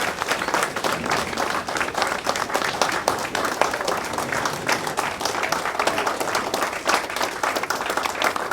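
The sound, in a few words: audience applause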